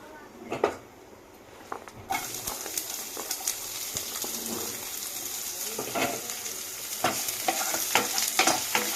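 Chopped onions frying in a pan with a little panch phoron, a soft sizzle growing louder as a spatula stirs them with irregular scraping clicks and knocks, close up.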